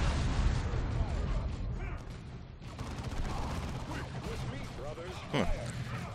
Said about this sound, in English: Let's call in more artillery in the middle.